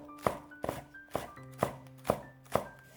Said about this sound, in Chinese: 准备一把小葱，切成葱花，